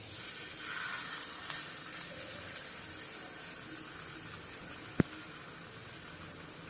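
Shaped veg cutlets rest in melted butter in a pan, giving a faint, steady sizzle close by, broken once by a single sharp click.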